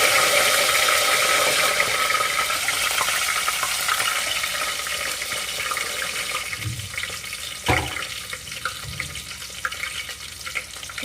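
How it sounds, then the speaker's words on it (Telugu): Mustard seeds and spices sizzle and crackle in hot oil, a dense hiss with a few pops and knocks later on. "పోపు అంటే ఇట్లా వేసాను కొద్దిగా ఆయిల్ బాగా వేడెక్కాలి దాంతోపాటు పోపు గింజలు కూడా వేగాలి"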